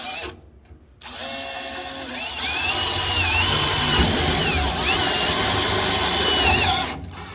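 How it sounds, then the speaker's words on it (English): A power drill bores holes in a firewall panel for Cleco fasteners, a loud steady whine with the motor pitch rising and dipping as the bit cuts through sheet metal, after a short start and a pause. "I'm going to take my drill"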